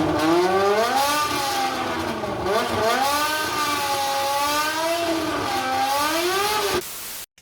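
An engine with long, stepped intake runners revs up and down repeatedly with a raspy, rising and falling tone, loud and close, then cuts off abruptly near the end.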